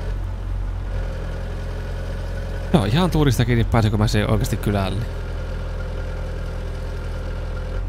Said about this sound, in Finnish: On se niinku härski tämä moottori